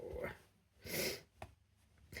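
An indoor dog barking at workmen outside the front of a house, a few short sharp barks and yips spread unevenly, close and fairly loud with quiet gaps between.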